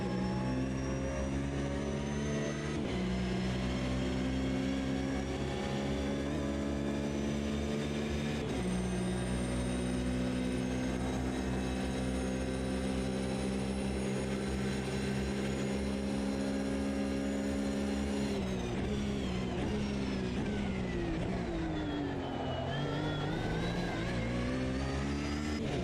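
A BMW GTE race car engine in a racing video game drones loudly and continuously, its pitch climbing through the gears and dropping sharply under braking, with no voices.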